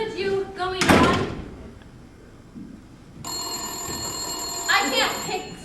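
A telephone ringing on stage during a high school theater production of the farce Noises Off, a bright sustained ring that starts midway and carries to the end, cutting across loud thumps, stage noise and actors' voices.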